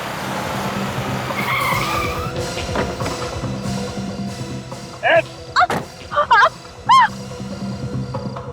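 A car skids to a stop with a loud rising tire squeal over engine noise, followed by a few short bursts of sound as people talk and shout nearby.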